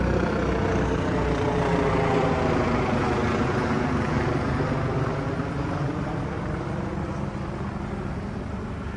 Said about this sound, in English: I'm gonna let this helicopter pass.